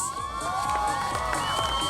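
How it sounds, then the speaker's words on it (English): Medical college annual day audience cheering and whooping, with children shouting in a loud, continuous crowd roar that sustains throughout. "So, can I hear your thunderous applause for this, please?"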